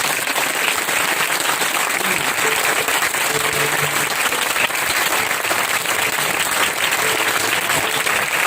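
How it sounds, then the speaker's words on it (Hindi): A church congregation claps hard during a Resurrection Sunday service, a thick, even wall of applause held at full strength from start to finish with no speech over it. "मैं चाहता हूँ हम जोरदार तालियां यीशु मसीह के जीतने के लिए बजाएं।"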